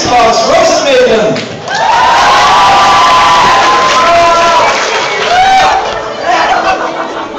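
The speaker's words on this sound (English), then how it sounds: "you have a round of applause for Tea Party Music Box" A lively convention cosplay-contest crowd cheers and whoops loudly, with shouts and applause swelling and sustaining throughout.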